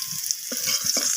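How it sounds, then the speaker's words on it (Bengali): Potatoes frying in oil with salt and turmeric, a brief steady hiss of sizzling oil with a few light stirring knocks. "লালচে করে আলুটাকে ভাজা করে নেব"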